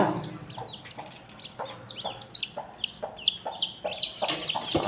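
A hen clucks in short repeated bursts with newly hatched chicks peeping high throughout in a brooding setup, close by and fairly loud, no talking.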